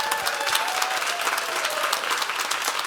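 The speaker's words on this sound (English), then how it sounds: "I think we should all give a round of applause to Margaret." Audience at a business event on women entrepreneurs breaks into sustained, dense applause, many hands clapping steadily and loudly throughout with a faint murmur of the crowd beneath.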